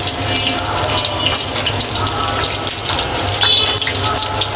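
Chopped onion sizzles loudly in hot oil in a cooking pot for Sylheti white khichuri, a constant crackling hiss with no speech.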